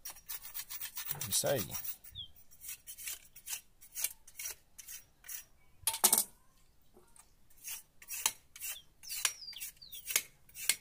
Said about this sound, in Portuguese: Aí eu raspo ela também. Deixo ela toda raspadinha, né?